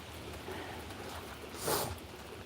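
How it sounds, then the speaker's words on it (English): Steady rain falls during a storm as a faint, even hiss throughout, swelling briefly into a slightly louder burst near the end. "Don't run out in the rain."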